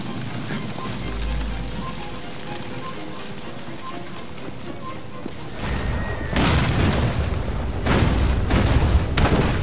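Templar bombs exploding in Assassin's Creed Syndicate, a low rumbling boom early on, then a sharp blast followed by further crackling bursts and debris-like noise, loud and close.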